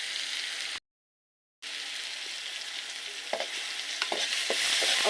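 Onion and garlic paste hits hot oil in a pan with a steady loud sizzle, broken by a brief gap, then continues frying with occasional stirring scrapes and growing crackle.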